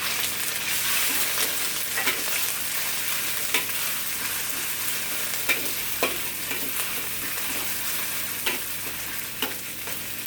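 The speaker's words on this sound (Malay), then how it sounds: "Tumis bahan tumbuk kita ini sehingga dia betul-betul garing." Pounded garlic, shallot, ginger, turmeric, bird's eye chilli and anchovy frying in hot oil, a steady bright sizzle with sharp clacks of a spatula stirring the pan at irregular intervals.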